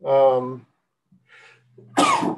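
A single sharp sneeze bursts out near the microphone in a quiet room, following a brief spoken filler and a short pause.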